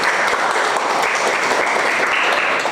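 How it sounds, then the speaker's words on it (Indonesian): Classroom applause from students after a teacher asks them to clap for everyone, a dense steady patter of many hands sustained evenly throughout at close range. "Bisa tepuk tangan dulu dong untuk kita semua"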